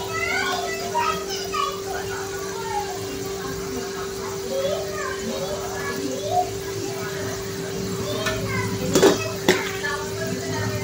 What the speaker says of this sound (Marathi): हे पहा, असे रिंग्स कट करून घ्यायचे आहेत टोमॅटोच्या.